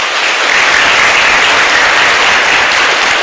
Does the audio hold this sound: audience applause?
yes